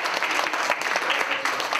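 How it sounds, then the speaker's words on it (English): Brief audience applause at a Miss Asia Pacific press conference, a steady wash of many hands clapping at moderate distance, sustained throughout without a break. "this girl really deserves a big round of applause to her."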